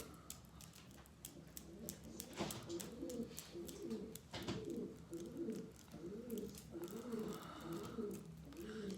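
Pigeons coo repeatedly nearby in a steady, rolling rhythm of soft low calls, with light rustling and occasional taps in the background.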